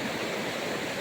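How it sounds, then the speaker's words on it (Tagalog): Strong floodwater rushing down a swollen river, a dense, continuous roar of churning water filling the whole brief moment, loud and steady with no voices. "Ang lakas ng tubig."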